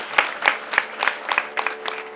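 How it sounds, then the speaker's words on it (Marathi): Kirtan audience clapping in a steady, rhythmic beat, about ten sharp claps of moderate loudness with no talk over them. "टाळी वाजव साहेब."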